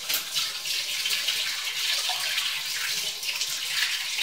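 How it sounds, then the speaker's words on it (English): Hands are washed under a running tap, a steady close splash and rush of water with slight changes as the hands move through the stream. "I'm gonna quickly wash my hands."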